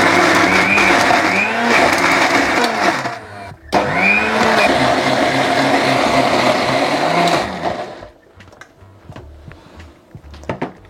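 A mixer grinder whirs loudly as it grinds coconut, peanuts and tomato into chutney, running in two long bursts with a short pause between them before it stops, leaving a few faint clatters.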